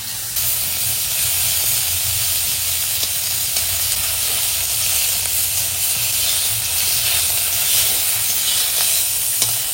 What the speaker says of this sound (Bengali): তো মাছ ভেজে নিচ্ছি উল্টিয়ে পাল্টিয়ে